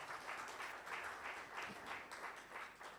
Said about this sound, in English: If you give a big round of applause.